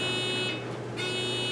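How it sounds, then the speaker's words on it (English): A quiz bowl answer buzzer at a school final round, a loud, harsh electronic drone that holds, cuts out briefly, then sounds again, with no voices. "we use the buzzer system to answer a question right now, starting with Nick."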